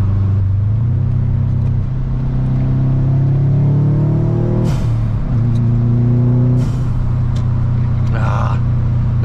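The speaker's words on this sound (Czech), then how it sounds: "takže jedeme po dálnici, dálniční rychlosti" A Subaru car cruising at highway speed heard from inside, a loud steady engine drone and road rumble with rising and falling engine tones as it accelerates, with people talking over it.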